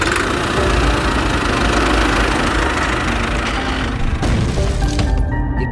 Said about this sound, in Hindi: इतना कहकर सोन ट्रैक्टर को स्टार्ट करता है और ले जाकर पेड़ में ठोक देता है